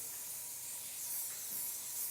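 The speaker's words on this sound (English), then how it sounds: "spray with a little bit of oil. Just got an olive oil spray." Olive oil spray hissing steadily onto food being prepared in a kitchen, a continuous close, airy spray lasting the whole moment with no talk.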